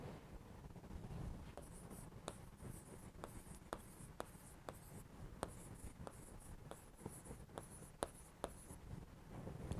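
A pen scratching on paper while figures are written by hand in an accounts lesson, giving faint, close, rhythmic strokes and taps throughout.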